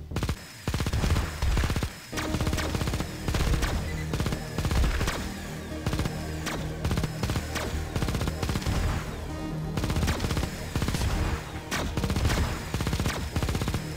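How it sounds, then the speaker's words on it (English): Rapid, continuous gunfire and explosions from the mobile shooter video game Xenoraid, loud and dense bursts over a constant game soundtrack with barely a pause. "I just shot like at six dudes and only hit one of them."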